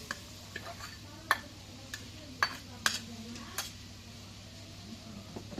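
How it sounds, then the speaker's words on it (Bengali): A spoon stirs salt, garam masala paste, ginger paste and cumin paste in a pan, giving faint, irregular clicks and scrapes against the metal over a low background hum. "এখন মশলাগুলো একটু নাড়া দিয়ে দিই।"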